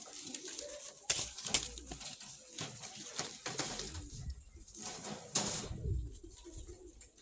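Pigeons, blue and blue-checkered males, coo in a loft at dusk, low murmuring calls repeating close by amid rustling and a few sharp knocks.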